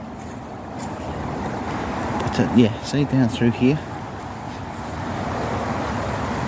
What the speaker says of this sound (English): you can just about hear the traffic